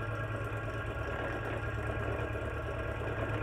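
A DC motor fed at 60 volts DC runs steadily at 600 rpm, driving a PMSG generator; a continuous low mechanical hum with faint tonal whine, even and unbroken, with a brief knock at the very end.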